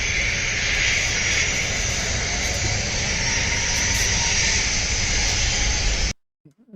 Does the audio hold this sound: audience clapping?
no